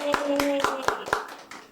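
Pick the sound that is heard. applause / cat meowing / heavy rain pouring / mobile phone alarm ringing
applause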